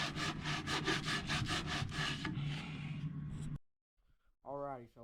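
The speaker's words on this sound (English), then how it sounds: "after sanding on it" Rhythmic back-and-forth sanding strokes on a 1967 Sears Suburban 10 tractor part, close and steady for about three seconds, then a pause and a brief voice.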